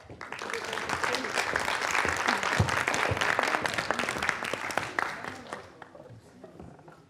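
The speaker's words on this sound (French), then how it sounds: "Je vous demande un tonnerre d'applaudissements pour Colline de Sonarclan." A conference audience at a talk on sexuality and digital practices gives a speaker a long, dense round of applause that holds steady for about six seconds before tapering off, with some voices mixed in.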